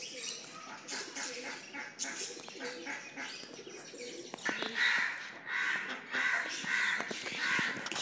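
A crow perched up high caws repeatedly in the open air, its harsh calls coming in steady bursts over the second half amid other bird chirps and background noise, with a kite nearby.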